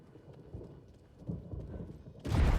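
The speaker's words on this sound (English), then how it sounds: "Don't love that storm." Thunderstorm in the video game Alan Wake II: a low, rumbling roll of thunder builds and then breaks into a loud, broad crash near the end, with no voices over it.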